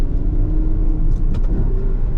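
Ferrari sports car rolling along a narrow street, its engine a continuous deep rumble with slight rises, close and fairly loud, no talking over it.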